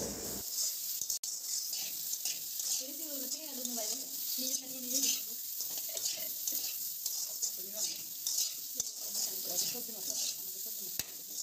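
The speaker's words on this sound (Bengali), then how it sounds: "তারপরেও আমরা এটাকে বেশ ভালো করে নাড়াচাড়া করব" Potato and pointed gourd pieces are stirred in a hot pan, giving a steady bright sizzle with repeated scraping strokes. A person speaks over the frying.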